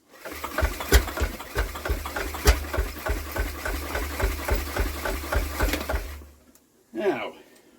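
A Villiers WX11 small engine fires and runs with a steady, rapid putter of regular beats close by for about six seconds, then cuts out, followed by a brief bump.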